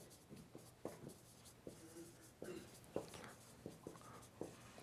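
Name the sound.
writing a summary on the board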